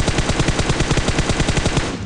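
Gunfire in PUBG Mobile comes as a rapid, even string of loud automatic shots, many bursts in quick rhythm, close and dominant for the whole moment.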